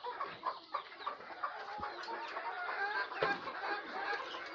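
Desi chickens on a chicken farm cluck and chatter continuously at close range, several birds overlapping in busy, uneven bursts with no talking.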